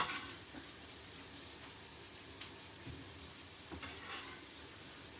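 Garlic hitting a hot pan for a braised steak stew gives a soft, steady sizzle like light rain, with a few faint stirring scrapes, quiet and continuous throughout.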